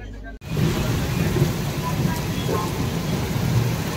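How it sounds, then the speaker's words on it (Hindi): Heavy rain pours down at an Indian railway station on the North Central Railway near Jhansi, a loud, steady hiss and patter that starts abruptly and continues unbroken. "और बारिश देख सकते हो आप लोग कितना तेज हो रही है"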